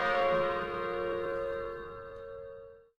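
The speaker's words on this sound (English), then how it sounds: "After the bell sounded." A single bell strike in an Ace Attorney crossover game, a clear ringing tone with bright overtones that rings out and decays smoothly over about three seconds, alone.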